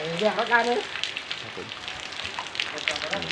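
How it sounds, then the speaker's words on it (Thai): Heavy rain falls across rural Surin, a dense steady hiss of drops on surfaces with a brief voice at the start. "ก็ชมบรรยากาศฝนตกนะครับผมตกทุกที่"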